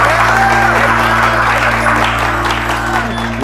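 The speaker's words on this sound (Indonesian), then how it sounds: "Tepuk tangan untuk Kemal." Audience clapping to welcome Kemal to the stage, a continuous wash of applause over a steady low hum, with some talk mixed in underneath.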